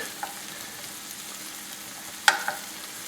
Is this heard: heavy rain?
no